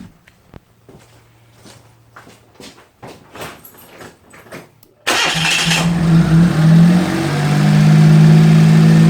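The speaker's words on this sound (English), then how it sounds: "we should see if it starts now, shouldn't we?" A 1996 Suzuki Alto fresh from a spark plug replacement: several sputtering cranking attempts, then the engine catches with a sudden loud roar and settles into a steady, rough close idle.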